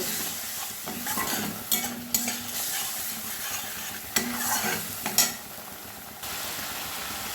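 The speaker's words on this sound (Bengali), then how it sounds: "মশলাটা আর একটু কষে নেব।" Spice masala with added sugar and salt being stirred and fried in a pan until oil separates, a soft continuous sizzle broken by a few sharp scrapes and clinks of a spatula against the pan, no voices.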